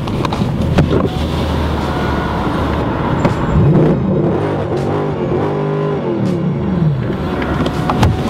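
Mercedes-Benz C63 AMG Coupe V8 engine revving loudly up and down close by, with rising and falling tones and crackling, no talk.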